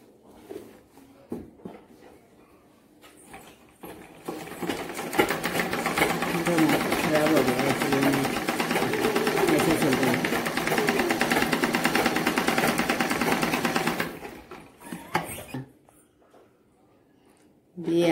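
A sewing machine stitches a child's frock, running in one long steady whir of about ten seconds, with short bursts and handling noises before and after and a voice speaking nearby.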